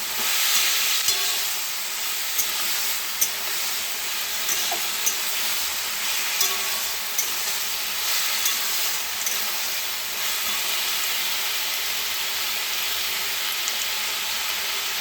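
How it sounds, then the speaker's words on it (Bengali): Food is sautéed and stirred in a frying pan, a constant loud sizzling hiss with scattered light clicks and scrapes from the stirring, heard alone and without talk. "ভালো করে কষে নিতে হবে"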